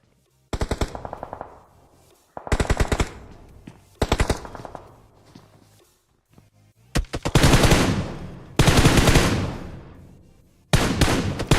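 Loud bursts of automatic gunfire in a battle royale video game during a pro tournament survival stage, several sharp volleys of rapid shots broken by brief pauses, the later bursts longer and denser.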